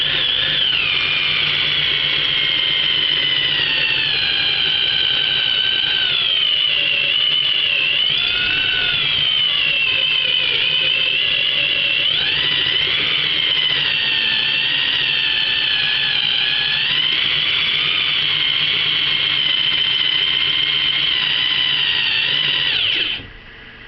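A power drill whines at high speed for a long, steady stretch, its pitch wavering slightly under load, close and loud, then cuts off at the end.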